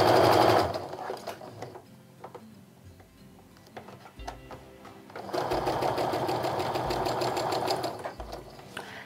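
A sewing machine chain-pieces quilt fabric for a fall maple leaf log cabin quilt, running in a short loud burst, pausing through a quieter stretch, then stitching steadily again for several seconds up close.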